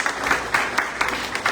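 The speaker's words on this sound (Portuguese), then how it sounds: "Dê aplausos para Jesus." A church congregation claps for Jesus during a worship service, a short burst of crisp, rhythmic clapping in a steady beat filling the hall.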